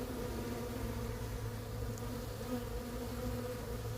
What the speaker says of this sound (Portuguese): Olha a revoada dessa caixa de bugia, pessoal.